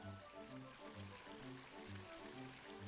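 Continuous rushing water of a waterfall at Pipsqueak Waterfalls in the video game Final Fantasy XI, a steady wash with a faint repeating low pulse, no voices over it.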